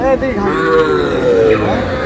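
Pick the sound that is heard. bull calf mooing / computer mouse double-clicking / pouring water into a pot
bull calf mooing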